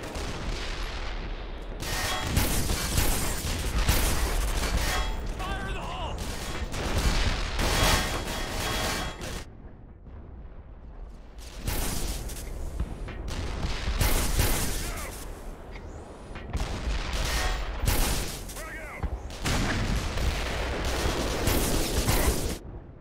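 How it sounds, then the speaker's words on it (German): Tank cannon fire in the video game Black Mesa: a series of loud, heavy blasts arriving in dense clusters, with a brief lull partway through before the barrage resumes. "Der Panzer macht mich fertig, ne?"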